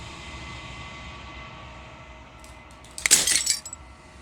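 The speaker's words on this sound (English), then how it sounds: "As the final fragment of glass shatters" Glass shatters in the Slay the Princess game, a sharp bright crash of breaking fragments with a few tinkling clinks, standing out over a low ambient hum.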